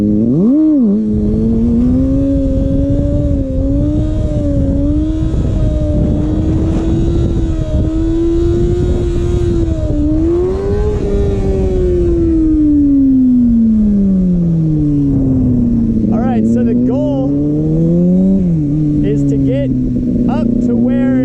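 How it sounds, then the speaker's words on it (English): A Honda Grom motorcycle engine holds a loud, steady high-rev drone, rising and falling slightly as the RPMs settle toward a constant wheelie balance point, with a dip and recovery near the end. "up to where you can hear your RPMs start to steady out and become constant"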